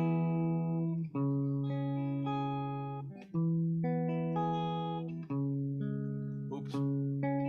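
Sustained keyboard chords in E Mixolydian move through triads and inversions with smooth voice leading, changing roughly every one to two seconds in a steady, close, moderately loud progression with no talking.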